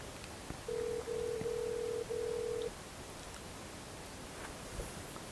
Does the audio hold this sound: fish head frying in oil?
no